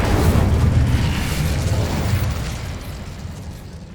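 In Hogwarts Legacy, an Incendio fire spell bursts out with a loud, deep whoosh and boom, then fades into a rumbling roar over a few seconds.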